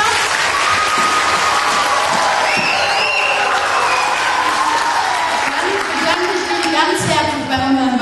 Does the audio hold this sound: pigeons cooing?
no